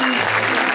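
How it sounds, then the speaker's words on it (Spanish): Spectators applauding padel players after an exhibition match, a dense, loud wash of clapping over a brief moment. "Fuerte el aplauso para estos cuatro grandes jugadores."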